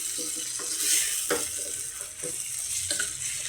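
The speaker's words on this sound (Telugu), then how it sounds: "మొత్తం ఒకసారి కలిసే విధంగా కలుపుకొని మరో 2 నిమిషాలు మగ్గించుకుందాము" Brinjal curry with garlic chilli paste cooks in a pan under a continuous close sizzle, with a few soft scraping stirs recurring at intervals and no talk.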